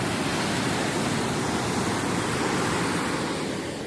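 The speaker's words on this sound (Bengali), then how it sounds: "তো গেটে তিনটে মুখ খোলা আছে গেটে। দেখো কি হারে জলটা যাচ্ছে" Water pours hard through three open dam gates, a dense, unbroken roar of rushing flow close by and loud, with no speech over it.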